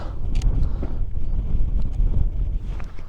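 Strong wind buffets the microphone in continuous low rumbling gusts at an abandoned raceway, with a few faint clicks and rattles in the background.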